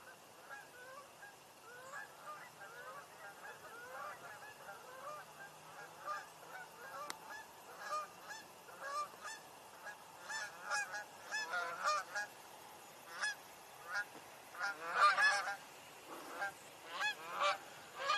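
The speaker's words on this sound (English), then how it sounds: "I hear more Canada geese." Canada geese honk repeatedly at a distance outdoors, the calls growing denser and louder toward the end as more birds join in, with no talk.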